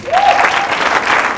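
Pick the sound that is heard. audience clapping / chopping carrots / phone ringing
audience clapping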